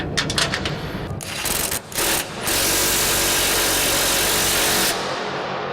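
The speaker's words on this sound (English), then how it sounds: "if you turn your bolts the other direction, you can use your impact to tighten the bolts." Impact wrench driving bolts on the tail section of a Daay bin paddle sweep, a loud continuous mechanical whir with short bursts early on, then a sustained steady run for several seconds before easing off.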